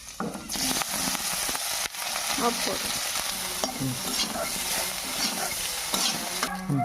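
Boiled potatoes fry in hot oil left from frying fish, with a loud, constant sizzle and crackle, stirring scrapes and clicks breaking through, and a brief spoken phrase near the start.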